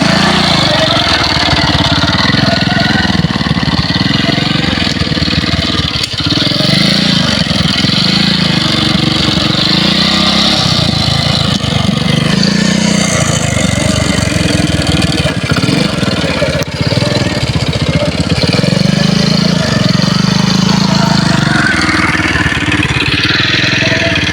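A vehicle engine idles in neutral during a driving lesson, a steady close rumble with a low, pulsing throb that holds for the whole stretch, with faint voices now and then.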